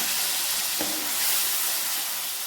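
Spinach bhaji with red chilli being sautéed in tempered oil in a home kitchen, a dense continuous hiss and sizzle filling the whole moment, close and fairly loud with no voices.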